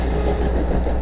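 A passenger train on the Dundas Subdivision in London, Ontario, passes with cab car 2331 leading in push mode, giving a steady low rumble and faint wheel hum with a thin high whine, with no voices.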